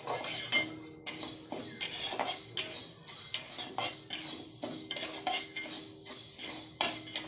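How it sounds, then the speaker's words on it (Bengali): Mung dal dry roasted in a wok with no oil, a utensil scraping and clinking against the metal over and over in an irregular rhythm as the lentils are stirred, close up and steady. "কড়াইতে শুকনো খোলায় আমি মুগ ডালটা ভাজা শুরু করে দিয়েছি।"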